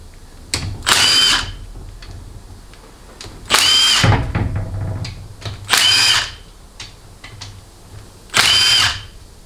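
Four loud bursts of a power tool removing transmission filter bolts on a Ford AOD automatic transmission, each a second or so long, spaced by quieter gaps with small clicks.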